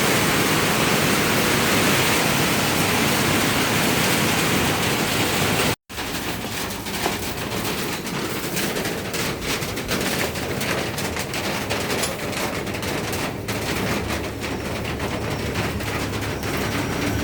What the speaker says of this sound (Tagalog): Lakas ng ulan ah.